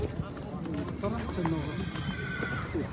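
A horse at a livestock market in Talas whinnies amid busy crowd noise, with hoof clops and people talking and bargaining nearby throughout.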